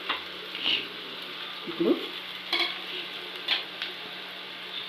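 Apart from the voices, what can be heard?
stirring and frying curry in a pan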